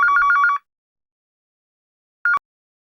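A telephone rings with a fast warbling electronic trill, one burst then a short second burst after a pause of nearly two seconds, clear and close with nothing else around it.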